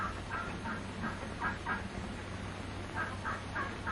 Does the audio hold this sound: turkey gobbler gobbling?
yes